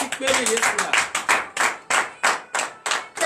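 Rhythmic unison clapping from a church congregation at a morning prayer service in Benin, about a dozen sharp, evenly spaced claps with a voice briefly sounding beneath them.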